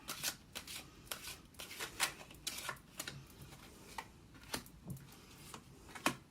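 Tarot cards shuffled by hand at close range, with quiet crisp snapping riffles and papery slides coming in irregular bursts over a faint background and no speech.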